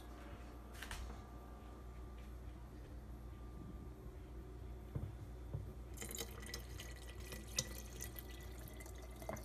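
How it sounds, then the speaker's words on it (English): Spring water pours into a pot of lemon ginger tea, faint trickling and dripping at first, then a brighter, louder stream of filling water in the final seconds, close by and free of speech. "now I'm gonna add some more spring water"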